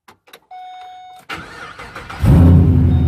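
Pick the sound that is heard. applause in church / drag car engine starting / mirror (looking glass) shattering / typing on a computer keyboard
drag car engine starting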